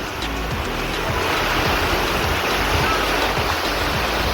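Knee-deep floodwater pours through a village after torrential rain, fed by an overflowing pond. It gives a continuous, close rushing roar that stays even and unbroken, with no voices over it.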